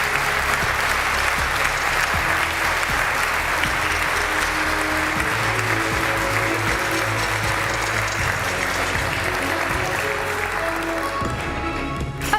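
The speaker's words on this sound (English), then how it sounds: "a round of applause for Peter Liese, Juan Fernando López Villar" Sustained applause from a large audience fills the room, steady and dense throughout, with no voices standing out.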